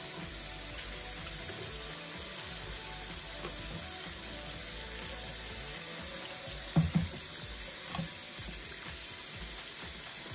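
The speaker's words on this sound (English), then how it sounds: "Run some water." Tap water runs in a steady, even hiss throughout, with a couple of brief clunks partway through.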